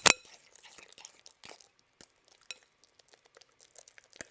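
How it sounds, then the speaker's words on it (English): Hard, overcooked banana bread gets knocked against a surface. One sharp, loud knock comes first, then a series of faint scattered taps and clicks in a quiet setting. "That's what good banana bread sounds like."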